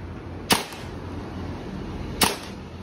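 Two sharp, loud shots about two seconds apart from a WE M4 CQB gas blowback airsoft rifle fired on semi-auto, each crack standing alone over a steady low background hum.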